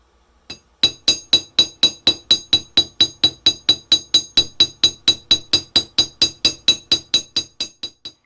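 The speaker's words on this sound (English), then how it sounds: "Using a jeweler's chasing hammer, I'm giving the shape that I'm happy with a nice work hardening" A jeweler's chasing hammer work-hardens a metal Japanese-style fish hook, striking about twenty-five bright, ringing metallic blows in a steady rhythm, each with a short ringing tail, close and alone.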